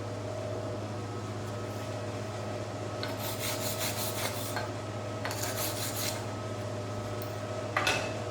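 A wire brush scrubbing a fresh spool gun weld, rough rasping strokes coming in a few short bursts over a steady low machine hum, close and fairly quiet.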